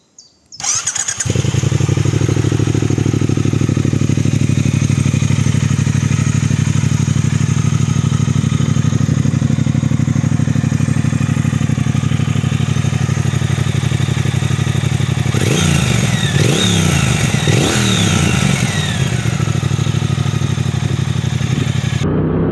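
A Triumph Speed Twin 1200 motorcycle starts up and its engine revs loudly and steadily, then climbs through several rising throttle pulls and gear changes near the end, close and dominant with no talk.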